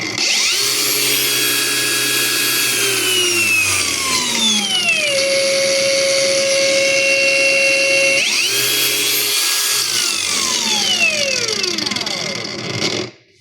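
A rechargeable lithium-ion angle grinder with two speed levels runs loud and close, its motor whine spinning up and gliding down in pitch twice across the clip before cutting off at the end.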